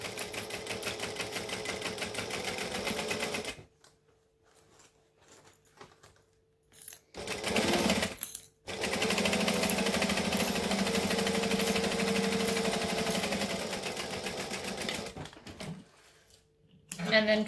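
Sewing machine running on a shoulder bag seam: a loud, steady mechanical whir in two long bursts with a short pause between, followed by quieter handling sounds and a brief final restart.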